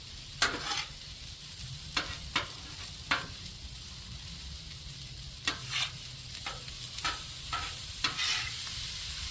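Fried rice cooking in a pan: a soft, steady sizzle under about a dozen sharp scrapes and taps from a stirring utensil, spaced irregularly and heard up close, with no talking.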